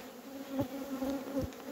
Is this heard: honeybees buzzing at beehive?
yes